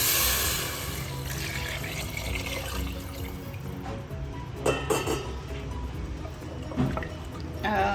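Water is poured into dal and rice in a pressure cooker, giving a loud rushing splash that settles into steady pouring. Metallic clinks and knocks of the pot and vessel come through near the end.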